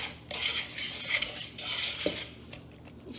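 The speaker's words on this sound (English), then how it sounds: "Gonna mix those together for a little bit." Spoon or whisk scraping and clinking around a bowl while bath bomb ingredients are mixed with pink food coloring, with intermittent stirring strokes and light taps, close and fairly quiet.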